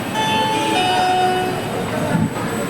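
Train arriving at platform 1 of Raipur Junction railway station, a steady rolling rumble with long sustained tonal whines, continuous and fairly loud throughout.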